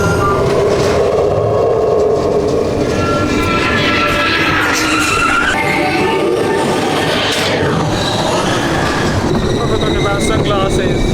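A fast ride car on Epcot's Test Track at Disney World rushes along its track with a loud, steady roar and rumble, rattling and whirring continuously throughout, with riders' voices faintly mixed in.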